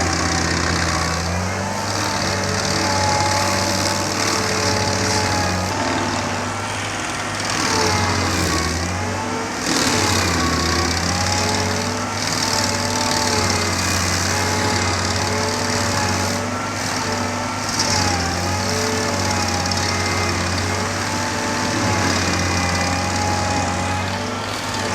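Stump grinder working on a tree stump at a disaster clean-up site, a loud steady engine drone with shifting load and repeated grinding strain.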